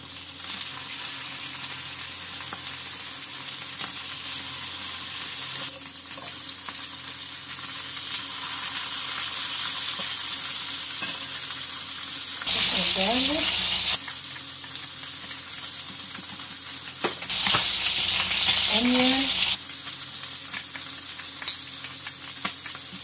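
Garlic and onion frying gently in olive oil over low heat, a steady, moderate sizzle throughout, broken by two short bursts of clattering or rustling.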